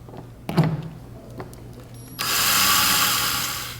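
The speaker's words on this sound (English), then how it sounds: "I want to use my screwdriver." A power screwdriver drives a screw while a RAILBLAZA Starport mount is installed: a few brief knocks and handling clicks, then a loud, steady whirring drive that runs to the end without a break.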